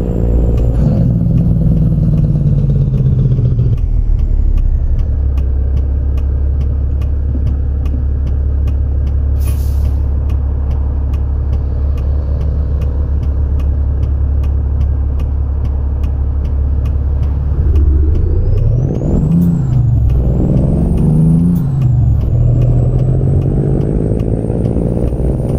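A Kenworth W900 truck's modded engine in American Truck Simulator drones with a deep, steady low rumble, shifting pitch as it revs up and settles back, with a brief air-brake hiss partway through, loud and continuous without talk.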